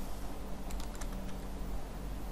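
A URL being typed on a computer keyboard, with a short burst of quick, light key clicks over steady background hiss.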